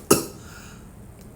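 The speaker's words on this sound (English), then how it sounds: "and he began to cough." A single short, sharp cough close by, followed by quiet room tone.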